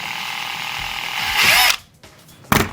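A power drill bores a hole in cardboard for a chain of lights, whining steadily and rising toward the end. The drill then cuts off, and a brief whir follows after a short pause.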